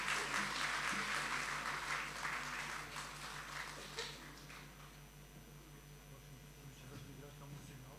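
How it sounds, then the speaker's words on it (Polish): An audience in a hall applauds a folk band: a burst of clapping that starts full and thins out gradually, leaving sparse scattered claps and faint room noise. "Brawa dla pań i panów."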